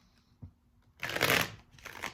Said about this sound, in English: I feel like we need a better shuffle.